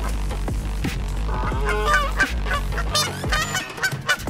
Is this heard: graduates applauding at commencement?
no